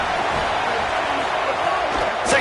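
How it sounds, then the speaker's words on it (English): A college football video game crowd roars as a steady, dense wash of stadium noise. A broadcast commentator talks over it. "The roar of the crowd trying to fuel this defense to keep them pinned in their own end"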